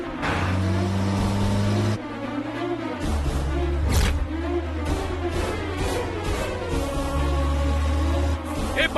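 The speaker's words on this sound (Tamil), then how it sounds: "உன் பின்னாடி வண்டி." A car engine hums steadily close behind, shifting pitch as it revs and moves, loud and continuous over a dramatic music bed.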